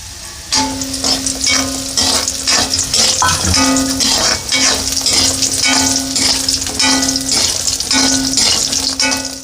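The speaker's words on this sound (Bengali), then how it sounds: "তেল গরম হয়ে গেছে, বড়িগুলো দিয়ে দিচ্ছি, ভেজে নিচ্ছি বড়িগুলোকে।" Lentil bori dumplings fry in hot oil in a kadai, giving a loud, continuous sizzle with repeated stirring scrapes and clinks in a steady rhythm.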